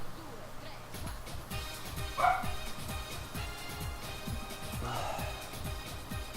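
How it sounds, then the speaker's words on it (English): A pet dog barking in the background of a home live stream while someone plays Phantasy Star Online 2, giving a few muffled barks and yips at a distance under steady background noise and game sounds. "My parents are just not caring about the dog barking"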